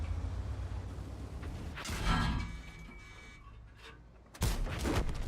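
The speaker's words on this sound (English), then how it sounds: "And I shot him twice before he finished me off." Tank cannon fire in World of Tanks comes as two heavy booming blasts roughly two seconds apart, each followed by rumbling and mechanical creaks, loud and near.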